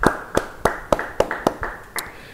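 A church congregation claps for God, a series of about nine sharp, evenly spaced claps over a couple of seconds.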